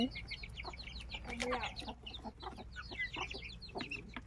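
Chickens cluck and chatter steadily nearby, several birds overlapping in a soft, continuous stream.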